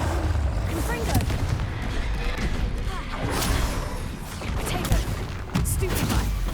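Confringo blasting spells in Hogwarts Legacy, a dense run of loud booming bursts and crackling impacts from battle with a troll, rolling on almost without a break.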